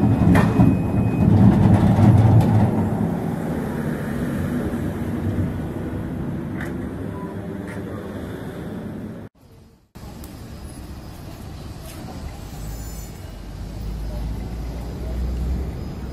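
Tram under tow at a street corner, its low rumbling rolling noise steady and fairly close, with a brief dropout partway through before the rumble resumes.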